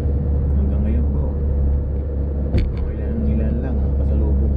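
Cars roll along a Brisbane city road with a steady, close low rumble of traffic and one brief louder passing swell, while someone talks over the noise.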